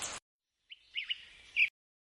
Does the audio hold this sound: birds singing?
yes